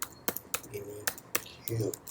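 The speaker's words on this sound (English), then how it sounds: "If I go here and type" Keystrokes on a computer keyboard while setting up Minikube, a handful of sharp separate clicks spaced irregularly, with a person talking over them.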